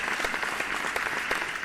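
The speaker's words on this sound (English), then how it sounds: "So let's have a round of applause for all these tiny little kids." A room full of audience members applauds young children on stage at a math bee competition, a steady dense wash of clapping that holds evenly throughout.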